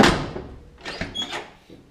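A Squarebody truck door swings shut with a couple of close, dull thumps and a light metallic clunk, easy and without rattle.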